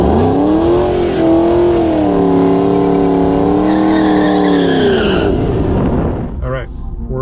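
A 5-liter Mustang on drag radials with skinny front tires races a Tesla Plaid down a dragstrip. A loud, droning engine note holds and wavers, then fades out, and some clatter follows near the end.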